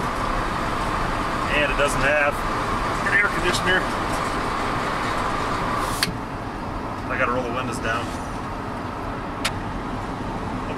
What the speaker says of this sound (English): Sorry, this truck's loud.